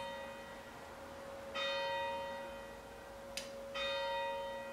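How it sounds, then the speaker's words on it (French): Church bells ringing, with two clear rounds of resonant tolling strikes ringing out against a quiet background and a single bright clang between them, with no talking. "on attend que les cloches finissent."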